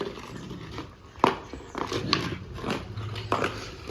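A small puppy plays with an object indoors, making scattered bites, scrapes and knocks in quick irregular bursts.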